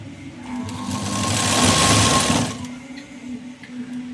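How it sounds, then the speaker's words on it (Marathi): A sewing machine runs steadily for several seconds, stitching a folded fabric piping strip down the center, its whirring motor swelling louder in the middle and easing off toward the end, with no voices. "फक्त ही फोल्ड करत करत अशी शिलाई द्या"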